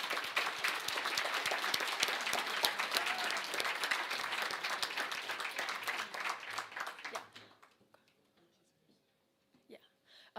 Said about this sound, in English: a round of applause for every participant here